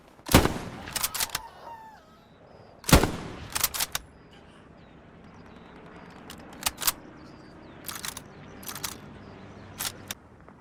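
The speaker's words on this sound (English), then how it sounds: "it's can be a lot of fun shooting someone point blank with the bolt action" Single sharp bolt-action rifle shots ring out in Hell Let Loose, a couple loud and near, then more spaced cracks and distant reports echoing across a quiet battlefield.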